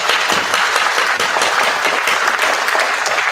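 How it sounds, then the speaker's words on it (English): A round of applause at a school National Junior Honor Society ceremony, dense clapping from a crowd holding steady and loud for a few seconds. "Congratulations and a big round of applause to each and every one of you."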